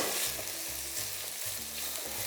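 Large chunks of red pepper sizzle as they hit garlic frying in a pan, a steady crackling hiss with a low rhythmic hum beneath, close and continuous without speech.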